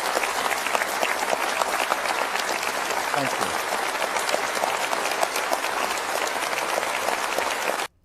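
Audience applause breaking out after a political speech, dense and steady clapping for about eight seconds before cutting off abruptly, with a brief voice heard over it.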